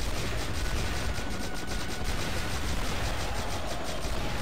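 Missile fire in a video game unleashed as a dense, unbroken barrage of rapid blasts and booms, loud and close, with no let-up from start to finish.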